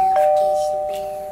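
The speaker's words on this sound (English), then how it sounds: "notification bell" A single bright notification bell chime rings out alone, holding a clear sustained tone that slowly fades over about a second.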